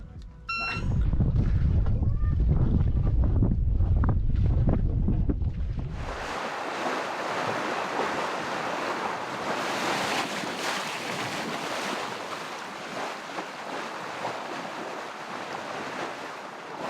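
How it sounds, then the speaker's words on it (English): A sailboat on a beam reach at sea near Smögen at close to 8 knots, with a steady broadband rush of wind and waves and rumbling wind buffeting the microphone, after loud excited voices at the start. "Beautiful sailing now."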